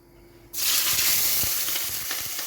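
After a quiet moment, chopped peppers drop into hot oil in a pan and a loud, steady sizzle erupts, crackling on with occasional pops and stirring.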